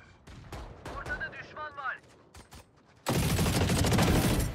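Rapid gunfire from the Valorant video game erupts as a loud, dense burst of shots that fills the second half, following a stretch of voices and a few isolated shots.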